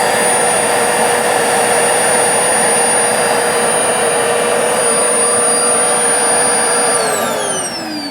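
Electrolux Versatility upright vacuum cleaner running with a steady loud whirring drone and a high whine, close and continuous, easing down in pitch near the end as it starts to wind off.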